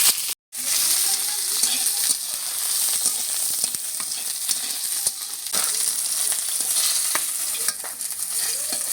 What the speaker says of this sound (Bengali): পটলটিকে ভাজা ভাজা করে নেব।